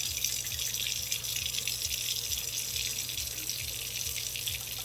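Tap water running steadily into a sink while sprouted fodder seeds are rinsed, a constant close splash and rush with faint rhythmic sloshing beneath, no voices.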